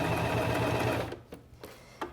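A Singer Simple 2263 sewing machine stitches a pant hem in a loud continuous run, then slows into a few separate bursts of stitching as the fabric is turned, with no talking.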